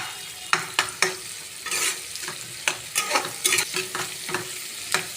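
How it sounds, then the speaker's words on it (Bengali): An egg frying together with spices in a pan for egg tadka, giving a steady sizzle broken by repeated sharp scrapes and clacks of stirring, close and fairly loud with no voices. "আমি এর সঙ্গেই ডিমটা ভেজে দিয়ে দিয়েছি"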